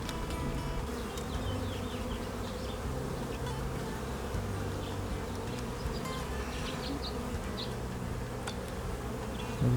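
Honeybees swarm around a hive opened for splitting in Northern Nevada, a dense steady buzzing drone with individual bees zipping past close by, continuous for the whole stretch with no talk.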